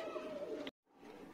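Madrasi pigeons, a pair sold as long-flying birds, coo steadily up close, a low murmuring call that breaks off abruptly for a moment before resuming more quietly.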